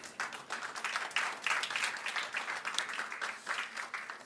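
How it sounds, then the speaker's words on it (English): Applause for a panel at the Kyiv Security Forum night session: a room of people clapping steadily at moderate distance, sustained and fairly quiet, with no speech on top. "A little bit of a round of applause for your panel."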